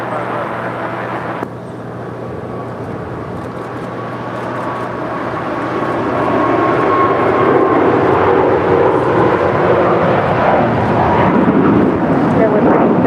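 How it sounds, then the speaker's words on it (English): A five-year-old Lufthansa Airbus A350-900 departing LAX for Munich, its jet engines building into a loud, broad roar that swells over several seconds, with a voice talking in the foreground. "This is Lufthansa Flight 453, now departing to Munich. It's a 5-year-old Airbus A350-900."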